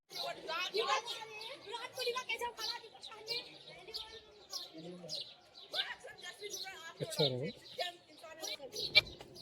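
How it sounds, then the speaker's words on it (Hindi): Small birds chirping and tweeting around a foggy village, bright scattered calls close by, with someone talking over them and a few coos heard as well. "देखो चिड़ियों की चहचहाहट भी आपको सुनाई दे रही होगी,"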